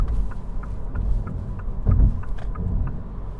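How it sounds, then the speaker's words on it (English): A 2022 Mini Cooper SE electric car driving over bumps, with faint light rattles from the door ticking over a steady low road rumble and a heavier thump near the middle, heard from inside the cabin with no talking. "you can hear a little bit of rattling as well in this door"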